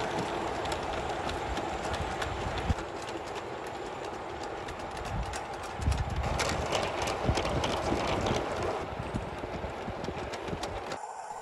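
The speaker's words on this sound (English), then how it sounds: "he can pull a 21 truck train with ease" A G scale model Thomas and Friends locomotive pulls a 21-truck train, clattering steadily along the track, its wheels producing a continuous rhythmic rattling and clicking, fairly close with no voices.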